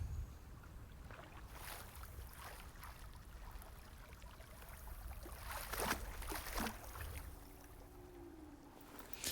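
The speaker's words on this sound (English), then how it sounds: "The slow, silent paddling like adds to this tension here so much." A boat is paddled slowly through dark water in Hellblade: Senua's Sacrifice. Soft, quiet splashes and strokes recur every second or two over a low, faint ambient drone.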